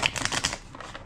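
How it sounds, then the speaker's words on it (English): Tarot cards riffle-shuffled for a reading, a quick run of crisp papery flutters and taps at close range, fading slightly toward the end. "Two more shuffles"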